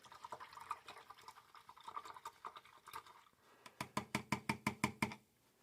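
A paintbrush swished and rinsed in a water jar during an acrylic painting class, first as soft irregular sloshing, then a run of about ten quick, regular taps against the container's rim, close and clear.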